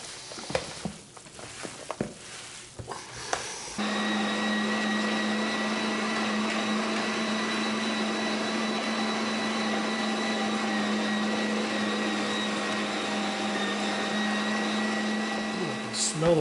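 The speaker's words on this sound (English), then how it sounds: "you ready to grind again?" After some handling clatter, a meat grinder starts up to grind pork sausage, running as a steady, loud, even motor whine to the end.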